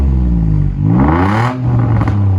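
A warmed-up Nissan VQ engine revs through a catback exhaust on a G35, climbing in pitch twice in close, loud rising sweeps that settle back toward idle, with no talk.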